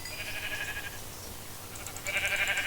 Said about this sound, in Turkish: koyunları bulmuşken indireyim ben